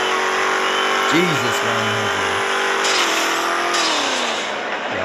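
Burnout-built car spinning its tires with a steady loud engine roar and tire noise throughout, as men exclaim over it.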